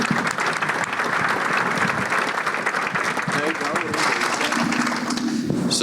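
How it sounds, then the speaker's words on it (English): A conference audience at a multifamily summit fills the room with dense, steady applause for a panel, lasting the whole stretch, with faint talking mixed in under the clapping. "let's please give the panel a big round of applause"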